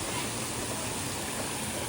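Water falls steadily into a bucket at a farmhouse, a dense, even splashing rush heard close and continuous throughout the short stretch, with nothing else standing out.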